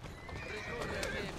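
Horses gallop with steady clip-clop hoofbeats and neigh in the video game Assassin's Creed Syndicate, set in Victorian London, while voices speak over the busy hooves.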